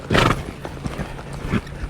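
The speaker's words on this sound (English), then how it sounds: "Now I'm going to lope a circle or two." A reining horse lopes in circles in an outdoor arena, its hoofbeats landing in a loose, uneven rhythm of soft thuds, fairly close, with a short louder burst near the start.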